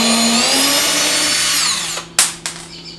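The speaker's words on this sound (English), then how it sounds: "we're going to remove the screws and the mounting blocks" A power drill whines steadily as it backs screws out of the mounting blocks on a cabinet face frame, the motor pitch sliding down before it stops, then two short bursts of the drill follow.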